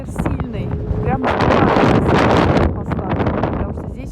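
Strong gusts of wind buffet the microphone near an airport runway in a city, a loud, continuous roaring rumble that swells to its peak midway and stays heavy, with someone briefly speaking early on.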